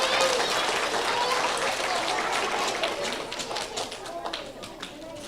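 Audience at a third grade awards ceremony applauding top reading students, a dense round of clapping that gradually thins into scattered individual claps, with voices mixed in.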